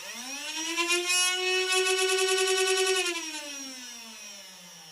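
Nerf Stryfe RM2 motors run on 6 volts with a regular circuit, giving a close, steady high whine. After about three seconds the pitch slides smoothly downward as they spin down, fading but not fully stopping.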